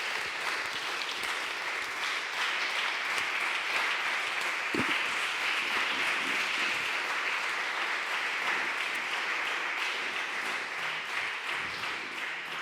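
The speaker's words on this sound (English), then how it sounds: "So a big applause for everybody" A conference audience at the Arts Festivals Summit in Peralada, Girona gives dense, sustained applause, steady and even throughout without any voices rising above it.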